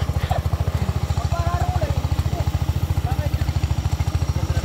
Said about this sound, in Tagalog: Nahihirapan ang makina, hindi man nga lang nabirit.